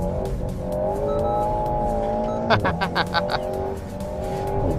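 A 2018 Alpine A110 engine drones at steady pitch on a track, then tires squeal in a quick series of chirps as the car slides under braking, before the engine note settles again.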